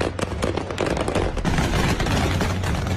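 Taliban fighters fire celebratory gunfire in Kabul, a dense, loud rattle of overlapping shots and bursts that runs on without a pause.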